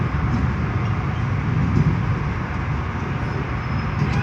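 Southeastern class 376 unit 376024 arrives at London Charing Cross with a steady, close rumbling roar that stays even in loudness for the whole moment.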